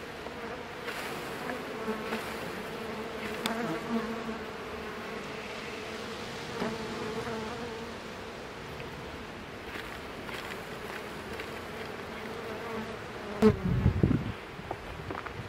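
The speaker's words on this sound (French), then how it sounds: "Quand même beaucoup d'abeilles dessus par contre." Honeybees buzz steadily around beehives outdoors while the hives are being condensed for winter, a dense continuous hum with a few louder knocks and handling noises near the end.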